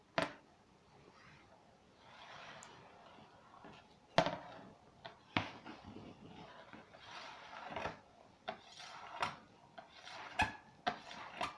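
A magnet is stroked in one direction along an iron object. Faint, repeated rubbing swells come at a steady pace, each stroke ending in a light scrape or tick against quiet room noise.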